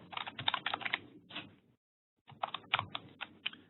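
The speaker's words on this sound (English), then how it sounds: "I'm using an English keyboard here. I'm usually using a French one, so I might hesitate once in a while when I'm typing" Rapid clicking keystrokes on an English-layout computer keyboard come in two dense bursts separated by a short pause, close and moderately loud, with no talking.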